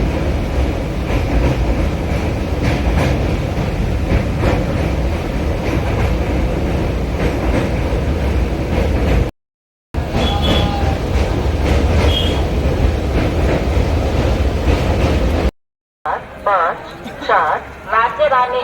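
A Rajya Rani Superfast Express rumbles loudly through a station at platform 2, a continuous heavy rolling roar with rail clatter and brief screeches, broken by two short cuts, with people talking throughout.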